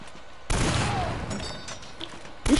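Gunfire in the Uncharted: Drake's Fortune video game, a dense burst of loud shots rattling for about two seconds, then a brief pause before another burst begins.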